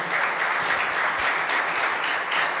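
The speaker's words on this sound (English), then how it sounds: "I'd like to give the coaches a round of applause and thank them for coming out." A high school coach forum audience claps for the coaches, a brief, steady wash of applause filling the room without any voices.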